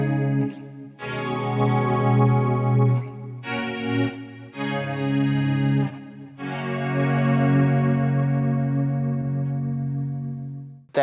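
An electric guitar run through a MOOER GE LABS patch profiled from a Fender Deluxe Reverb, with compressor, chorus, delay and reverb: sustained clean chords ringing one after another, shimmering and spacious, each decaying into a long tail.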